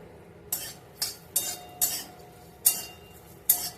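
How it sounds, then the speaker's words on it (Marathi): Grated coconut dry-roasts in a pan as a spatula scrapes through it in about six evenly spaced, crisp strokes over a faint background hiss. "आपण हे टाकून ते छान थोडंसं भाजून घेऊया"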